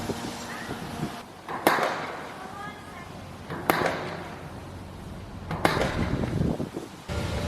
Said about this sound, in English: It is the construction going on in the new visitor center.